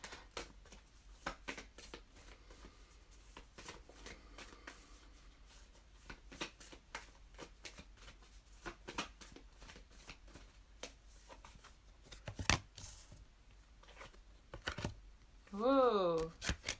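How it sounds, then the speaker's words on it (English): Soft, quick riffling and flicking of tarot cards being shuffled comes in irregular bursts, close and quiet, with a brief voice near the end. "Forgotten how to shuffle, I think."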